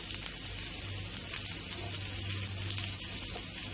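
Chopped onion sautés in melted butter in a pan for a Spanish omelette, giving a steady, close crackling sizzle with light stirring throughout.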